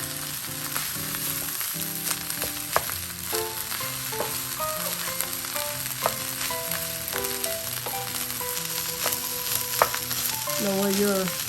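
Sinangag, Filipino garlic fried rice, frying in a pan: a continuous soft sizzle heard under steady background music.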